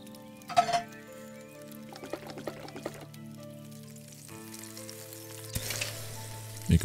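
Food cooking over a campfire in the game Above Snakes, a soft, steady sizzle with light crackles and a few brief clicks over a low droning game soundtrack.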